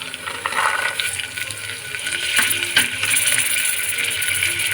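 Green peas frying in a pan for vegetable pulao, a steady loud sizzle with stirring scrapes and a brief clatter midway.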